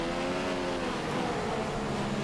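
A Formula One race car in the F1 2015 video game at Barcelona, its engine droning continuously at a high strained pitch, steady and loud with no breaks and no talking.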